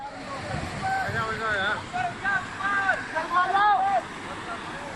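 Fast-flowing floodwater from heavy rain in Uttarakhand rushes with a constant broadband roar, mixed with wind noise on the microphone. Voices talk over the water throughout.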